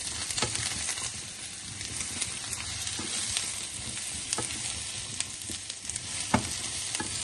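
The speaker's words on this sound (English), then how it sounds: "we're just sort of pre-cooking the vegetable components, as it were, in that tiny bit of oil" Vegetable pieces pre-cooking in a small amount of oil, with a steady close sizzle and crackle and occasional stirring clicks throughout, no talk.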